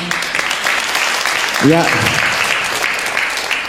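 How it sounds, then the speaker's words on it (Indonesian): An audience at an Islamic sermon claps in steady, continuous applause, with a brief spoken word from a voice over it partway through. "Boleh tepuk tangan"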